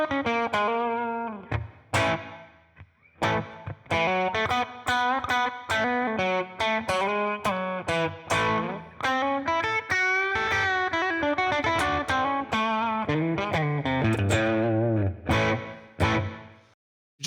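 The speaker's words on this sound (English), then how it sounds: "So I'm going to turn on the blues driver and let's add a little reverb." Electric guitar played through a Blues Driver overdrive pedal with a short, slightly dry reverb, a run of clear picked notes and chords with crisp attacks and gentle breakup, loud and alone.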